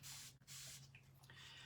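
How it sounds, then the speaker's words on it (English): A spray bottle mists water onto a paintbrush while tidying excess glue during resin mould work, giving a few short, close hissing bursts with brief pauses between them. "I'm just going to spray"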